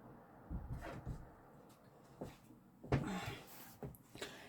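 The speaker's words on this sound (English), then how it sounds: "I'll shut this bedroom door." A bedroom door is pushed shut in a quiet room, giving a few soft knocks and a sharper thud with a brief rattle near the end, close by and moderately loud.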